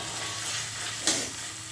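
Spices and onion fry in oil left from frying a fish head, a steady soft sizzle with one brief louder stir or clatter partway through, close and alone with no talking.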